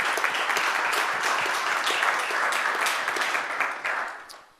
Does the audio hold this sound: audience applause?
yes